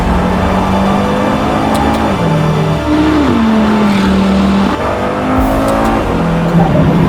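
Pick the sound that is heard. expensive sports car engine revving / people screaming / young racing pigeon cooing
expensive sports car engine revving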